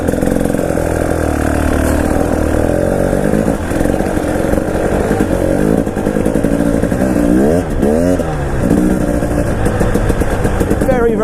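A 2019 KTM 300 EXC TPI two-stroke dirt bike running loud and close, its engine rising and falling through revs as it pulls away on slippery ground, with a voice speaking over it.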